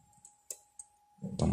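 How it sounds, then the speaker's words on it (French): A computer mouse gives a few crisp, sparse clicks during map georeferencing work, close and fairly quiet over a faint steady tone, before a louder burst of noise at the end. "Je clique et je choisis la même point"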